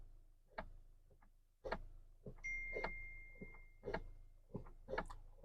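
Mahindra Scorpio N sitting in park, making a clicking fault noise when the brake is pressed: a steady series of sharp ticks roughly once per second, close and clear in a quiet cabin.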